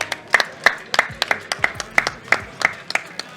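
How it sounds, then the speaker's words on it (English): Scattered hand clapping from a small audience at a Street Fighter 6 tournament grand final, roughly a dozen sharp, uneven claps over a few seconds without building into a full ovation. "Let's give him a round of applause."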